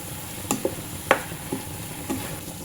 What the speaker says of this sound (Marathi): आता आपण हा जो भात आहे व्यवस्थित मिक्स करून घ्यायचा आहे